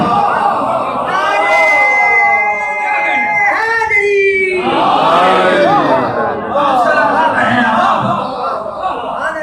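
A gathering at a religious celebration shouts a slogan in unison, loud and close, with voices rising and falling across several bursts of chanting.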